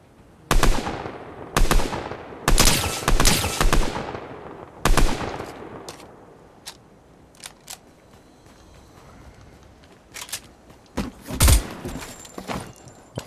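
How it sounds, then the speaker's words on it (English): Gunfire from a tank in Fortnite, loud sharp bursts in quick clusters with short gaps, then a quieter stretch before a few more scattered shots near the end. "my game just decides it's gonna shoot whenever it wants"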